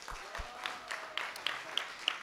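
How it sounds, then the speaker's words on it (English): Light, scattered applause greets volunteers coming up to a stage at a comedy show, a thin patter of separate claps rather than a full ovation, fairly quiet and brief. "A round of applause for our volunteers."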